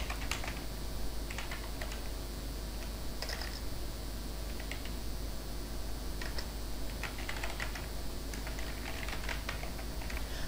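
Registration details typed on a computer keyboard, a quick, irregular run of light key clicks over a steady background hum, with no talking.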